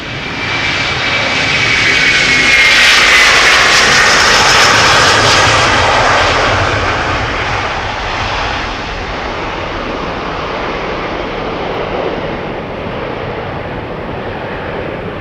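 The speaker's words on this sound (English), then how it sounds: "This is Delta Airlines to Boston, Massachusetts, to flight 243." A Delta Airlines jet bound for Boston passing at Amsterdam Schiphol Airport, a powerful engine roar swelling to a peak then slowly fading as it moves away, loud and alone.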